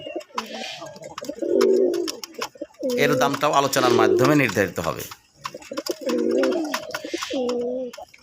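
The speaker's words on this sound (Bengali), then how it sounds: "খুব ফার্স্ট ক্লাস কবুতর দেখেন কিভাবে নটটা ডাকাডাকি করতেছে" A male pigeon, a sky-blue colored one kept for sale, gives repeated deep coos close by, in bursts between and beneath a man's speech.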